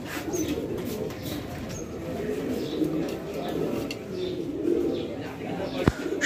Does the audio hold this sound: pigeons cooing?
yes